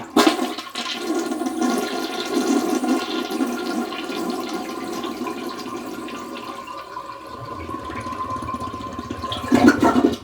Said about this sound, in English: And I'll finish the flush.